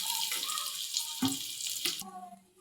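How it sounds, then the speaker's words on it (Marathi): Bombil (Bombay duck) fish fry in hot oil in a home kitchen, giving a soft, steady sizzling hiss at close range while someone speaks briefly over it. "सगळ्यात आधी आपल्याला बोंबील तळून घ्यायचे"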